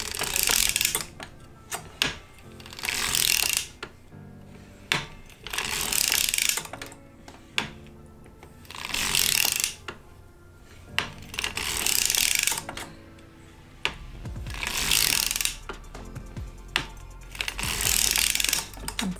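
Circular sock knitting machine cranked by hand to knit yarn on a 60-stitch cylinder, giving repeated bursts of rapid mechanical clatter and ratcheting clicks in rhythmic passes, close and moderately loud, with short pauses between rounds.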